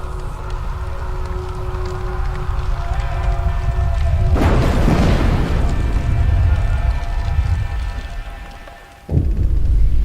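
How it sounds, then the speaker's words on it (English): A fire and explosion in the generator core in Frostpunk: a steady low industrial drone breaks into a loud roaring blast that rumbles on, then cuts to a sudden heavy thud and renewed roar. "Sound of explosion comes from the generator and then din of terrified voices."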